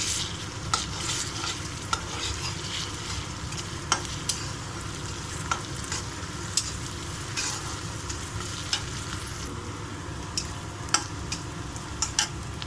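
Ginger garlic paste fries in a pan for cauliflower fry, a steady close sizzle with frequent scraping stir strokes and occasional sharp clicks of the spoon against the pan, heard alone.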